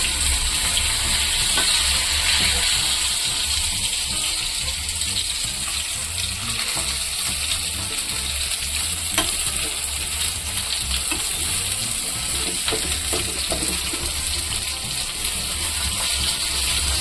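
Jalebi fish fries in hot oil over medium heat, a loud, steady sizzle with crackling pops that runs unbroken from start to finish.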